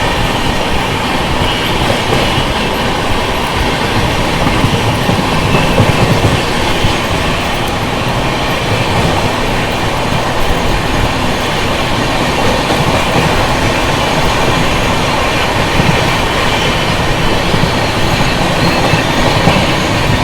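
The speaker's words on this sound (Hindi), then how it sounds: "हमसफर एक्सप्रेस को ओवरटेक मार दिया हम लोगों ने।" Broadband, steady rolling rumble of the LTT Mumbai–Chennai Express running on rails, with continuous rhythmic clatter of wheels over track joints and faint squeal, loud and close throughout, no talking.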